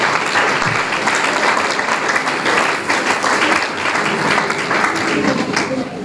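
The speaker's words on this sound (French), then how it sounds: "Nous acclamons le Seigneur pour sa parole" Church congregation applauding during a Sunday service, steady full applause sustained throughout, dense and close, with no talk over it.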